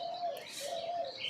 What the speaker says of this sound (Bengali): এদিকে দেখেন ঘুঘুর ডাক কত সুন্দর